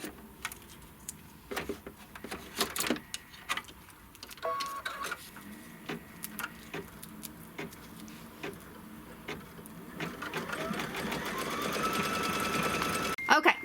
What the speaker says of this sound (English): the next thing it's going to stitch off are the little lines for the pockets